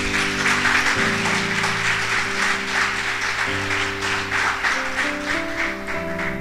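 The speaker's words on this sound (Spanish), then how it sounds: "Dale un aplauso al Señor." Church congregation applauding during a Sunday service, steady loud clapping from a crowd over sustained organ or keyboard chords.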